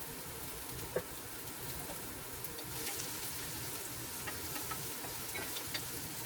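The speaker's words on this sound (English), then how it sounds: "So we're sauteing our onions in olive oil." Onions saute in olive oil in a home kitchen, a faint, steady crackling sizzle with a few small ticks and pops running throughout.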